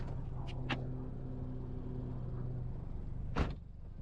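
The electric folding roof of a BMW Z4 convertible opens with a steady low motor whir, a few short clicks and clunks, and a latch thud near the end as the mechanism finishes.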